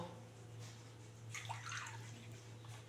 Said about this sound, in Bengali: প্রথমে 1 কাপ জল দিলাম, এই যে 2 কাপ জল দিলাম, 3 কাপ জল দিলাম